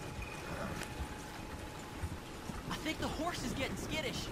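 Horse hooves clopping along a road in the video game Red Dead Redemption 2, a steady near rhythm under game ambience, with a few rising chirps late on and no talk.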